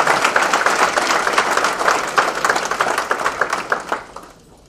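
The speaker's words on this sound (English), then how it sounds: "Please give all of yourselves a round of applause for 100 years of success." Audience at a Chamber of Commerce dinner applauding with dense, steady clapping for about four seconds before it quickly fades out.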